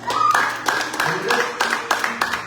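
A congregation claps together during a Pentecostal church service in Rome. The brisk clapping is moderately loud and mixes with voices speaking over it.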